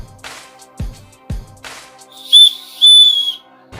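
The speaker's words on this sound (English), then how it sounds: "A loud whistle." A plastic spork with a built-in whistle blown twice in short, shrill, loud blasts, preceded by a few clicks and handling taps.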